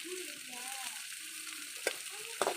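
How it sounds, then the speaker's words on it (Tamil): Carrot, beans and capsicum frying in hot oil for egg vegetable noodles, giving a steady close sizzle with a couple of brief clinks from stirring and a faint voice in the background. "ஆயில் ஊற்றி வச்சு ஆயில் எண்ணெய் காஞ்சிட்டு கேரட் சேர்த்துக்கலாம் பீன்ஸ் சேர்த்துக்கலாம் குடமிளகாய் சேர்த்துக்கலாம்"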